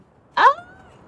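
A single short, clear cat meow from Little Kitty, Big City, rising then sliding down into a soft tail over quiet background.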